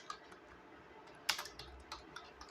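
Rapid, light clicks of typing on a computer keyboard while entering text at a Linux terminal, with a sharper burst of keystrokes near the middle, close and fairly quiet.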